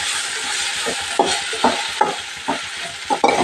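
Okra curry frying in a pan as a spoon stirs it, several evenly spaced scraping strokes over a soft continuous sizzle, close and fairly loud, no voices.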